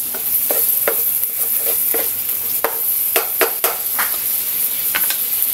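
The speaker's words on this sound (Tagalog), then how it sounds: "pinipress ko yung kamatis para mas malasa at mas masarap" Tomatoes and eggs being pressed in a frying pan of oil, a steady loud sizzle with scattered scraping and tapping of a utensil against the pan, close up and without talking.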